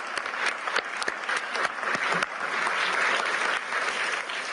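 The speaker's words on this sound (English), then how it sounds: "So please join me in clapping for them." An audience at a Davos closing session applauds the staff, a dense, sustained round of clapping with sharp individual claps standing out and no voices over it.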